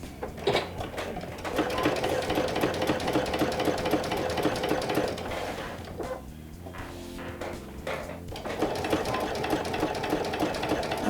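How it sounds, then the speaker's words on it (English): A domestic sewing machine stitches slowly through thick layers of vinyl, a steady mechanical whir with rhythmic needle thumps, pausing briefly midway before resuming at the same even pace. "go slow when you sew vinyl or leather on your domestic machine"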